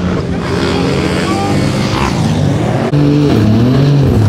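A Ferrari F80 supercar drives on a New York City street, its engine a loud, continuous roar with rising and falling revs, with the surrounding street noise mixed in throughout.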